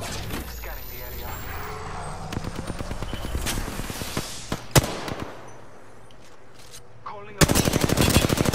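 Rapid automatic gunfire from Apex Legends during a ranked match, bursts of sharp shots rattling through the first half, a lull with scattered cracks, then a loud close volley erupting near the end.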